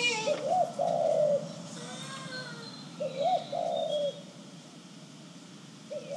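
Pigeons or doves coo at a window in two clear rounds of soft, rolling calls, each a short rising coo followed by a longer burble, moderately close over low background noise.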